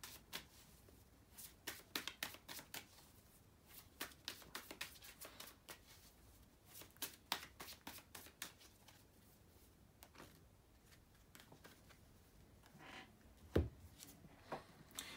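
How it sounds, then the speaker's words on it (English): A deck of tarot cards is shuffled close up, soft riffling flutters and slaps recurring in irregular bursts over about fifteen seconds, with one sharper knock near the end and no talk. "let me shuffle for Pisces and see what they have"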